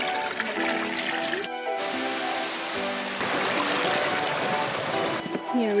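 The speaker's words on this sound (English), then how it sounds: "so many little creeks and waterfalls all along. It's running big right now" Snowmelt-swollen mountain creek running high along a snowy summer hiking trail, a steady broadband rush of water throughout, close and fairly loud, with no talking.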